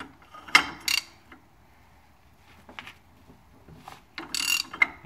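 Ratchet wrench tightening a nut on a truck wheel hub during a wheel seal job, giving short bursts of close metallic clicking separated by quiet pauses.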